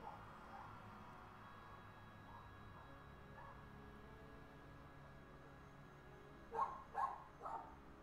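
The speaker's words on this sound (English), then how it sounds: "Doggies, can you please shut up?" Dogs barking indoors in a room, three quick barks close together near the end, heard over a low steady background hum.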